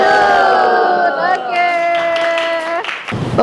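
A classroom chants the 'tepuk salut' clapping cheer for a presenting group, loud sung and shouted voices with clapping in a rhythmic unison pattern that ends abruptly.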